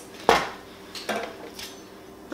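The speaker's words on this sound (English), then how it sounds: "We're gonna add our jalapeno for that spice." Three separate clinks of dishes and utensils, the first loudest, ring out close by in a home kitchen as jalapeno goes into a blender for peach salsa.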